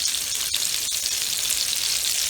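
Hamburger steak patties sizzle and fry in a pan, a dense, steady, close hiss of browning meat that runs unbroken throughout, with no voices.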